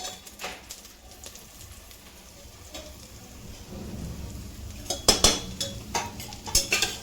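Stuffed brinjals sauté in a pan over low heat with a crackly, sputtering sizzle that grows louder and bursts with sharp pops and clatters toward the end, with no talking.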